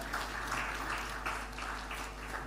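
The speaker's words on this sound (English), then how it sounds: "Let's welcome him with a round of applause" Faint, steady applause from a conference audience at a Ghana media forum welcoming a session moderator, a distant wash of many hands over a low hum with no clear individual claps.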